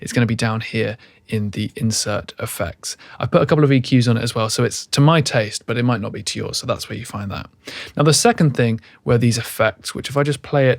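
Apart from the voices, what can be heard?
No everyday noises stand out.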